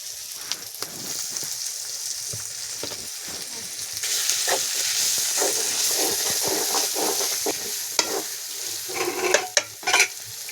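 Chili is stirred into a pan of frying maize for a home-cooked dish. A loud, steady sizzle runs throughout, broken by irregular scraping and clacking of the stirring utensil that grows busier toward the end.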